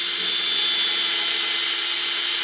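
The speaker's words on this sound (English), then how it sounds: "I'm just gonna drill them out." A small power drill whines continuously at a steady high pitch while drilling holes in a minibike during a motor swap, close and fairly loud, without pauses.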